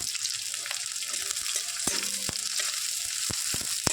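Chopped onion sizzles in a little oil in a pan, a constant close crackle with occasional sharp clicks and taps of a utensil stirring.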